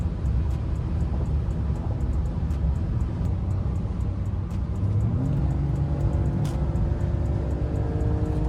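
A BMW E39 530i cruising on the road, steady low engine and road rumble filling the cabin throughout, with a rising engine tone partway through as it accelerates out of a curve.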